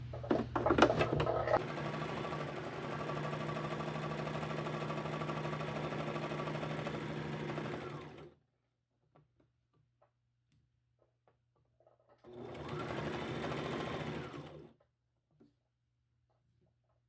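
A sewing machine stitching the band of a top runs in a long steady whirring burst of about seven seconds. After a quiet pause, a shorter second run follows, with light clicks near the start.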